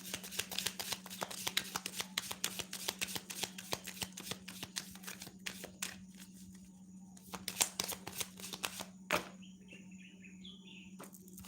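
Oracle cards are shuffled in quick, close, rustling riffles that run in bursts, with faint birdsong in the background and a short pause near the end.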